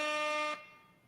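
A single loud, sustained air horn blast lasting about half a second, then cutting off abruptly with a faint tail and no voices.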